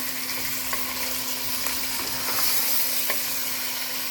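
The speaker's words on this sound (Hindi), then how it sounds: "अब चिकन हम अच्छे से भून लेंगे।" Chicken pieces frying in ghee for pulao give a steady, dense sizzle close by, with a faint low hum beneath and occasional soft scrapes of stirring.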